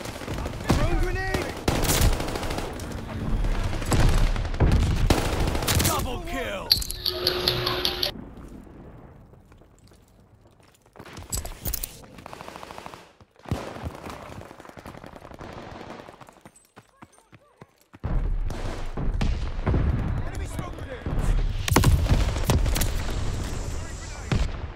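Call of Duty Vanguard multiplayer on the Hotel Royal map, with loud clusters of automatic gunfire and single shots. A quieter lull falls in the middle before the heavy firing resumes, and a voice is heard at times.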